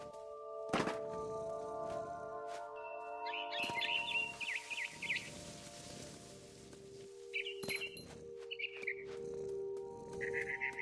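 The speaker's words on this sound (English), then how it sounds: "Then I heard chirping outside my window. It was a barn swallow going back to her nest." In the game What Remains of Edith Finch, a barn swallow chirps outside a window in short bright bursts, mixed with soft thumps and rustling and set against a quiet background hum.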